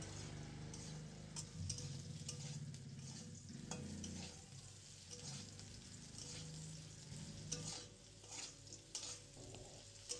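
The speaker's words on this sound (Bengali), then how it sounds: "ডাঁটাগুলোর গায়ে একটু হালকা রং ধরা পর্যন্ত" Malabar spinach stems fry in oil in a pan while being stirred, with a steady sizzle and scraping stir strokes that come and go throughout, close and moderately loud, with no talking.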